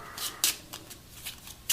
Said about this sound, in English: let's just go ahead and shuffle these real nice and good a little bit more